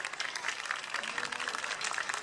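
Applause at a library inauguration honoring a professor, a quiet, even patter of many hands clapping heard from a distance, faint but continuous for a couple of seconds.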